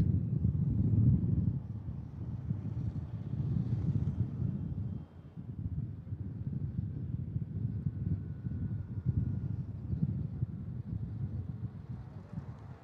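Strong wind of about 40 km/h blowing through a dust storm over a city, heard as a steady low roaring rush with gusty swells and a brief lull, buffeting the microphone and with no voices.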